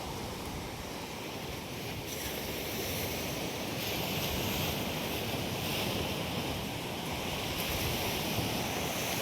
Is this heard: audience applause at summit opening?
no